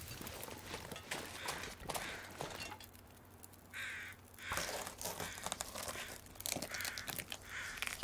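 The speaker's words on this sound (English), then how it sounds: "Okay, Crows, I hear you." Crows caw intermittently in a snowy wilderness in the survival game The Long Dark, with scattered rustling and crunchy footstep-like noises around them; the calls come in short bursts over a steady low ambient hum.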